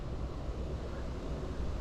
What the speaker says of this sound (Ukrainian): Щось вітер роздувається.